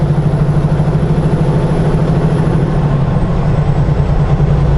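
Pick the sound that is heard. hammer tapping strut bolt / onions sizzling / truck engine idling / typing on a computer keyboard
truck engine idling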